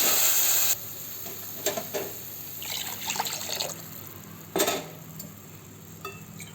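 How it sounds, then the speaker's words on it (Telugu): Water pours into a pot for semolina khichdi, a short liquid splash and trickle with a few clinks of metal utensils, fairly quiet and close. "2 ముక్కల కప్పు నీళ్ళు పోయాలి."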